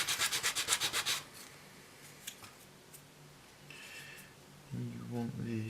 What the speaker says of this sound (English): Having trimmed it, sandpaper is your friend in the squaring off process.